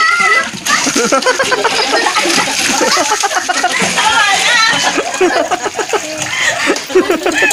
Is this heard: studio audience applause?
no